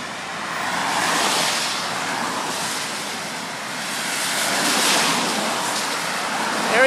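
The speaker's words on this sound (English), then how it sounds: "The cars passing by." Cars pass by on a wet road along Route 7, giving a broad steady hiss of tires on water that swells and fades as vehicles go by, mixed with wind noise on the microphone.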